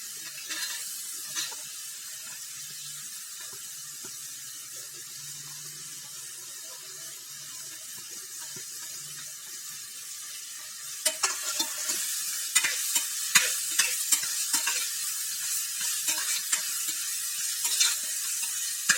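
Vegetables being stirred in a pan while cooking vegetable pulao, with a quiet steady sizzle that turns into louder scraping and clattering stirring strokes partway through, with no voices.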